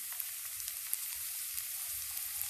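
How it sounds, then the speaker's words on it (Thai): Rice stir-frying in oil in a pan, a steady close hiss of sizzling with soft occasional scrapes and ticks, no voices. "อันนี้เป็นการผัดข้าวนะ"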